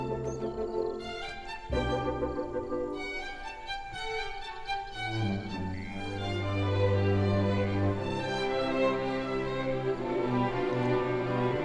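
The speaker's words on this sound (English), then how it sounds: "What you're hearing is the first movement of Beethoven's Sixth Symphony." First movement of Beethoven's Sixth Symphony, the Pastoral, played back as an orchestral recording: sustained strings and winds swell gently and continuously at moderate loudness, with no voices over it.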